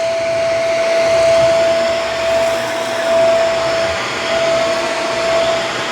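A Shark Vertex DuoClean AZ2001AMZ vacuum cleaner runs close by with a steady, loud motor roar and a thin constant whine that rises and falls slightly. No one speaks.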